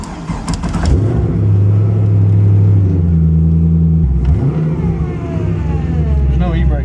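A car engine rumbles steadily up close and revs now and then, with people talking loudly over it throughout.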